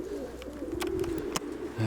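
Soft, low pigeon cooing murmurs continuously, with a few brief sharper chirps and rustles mixed in, moderately close and fairly quiet.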